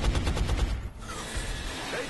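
A rapid burst of gunfire from the turn-based strategy video game X-Com: Enemy Unknown, loud and close, fading into a rumbling echo by the end.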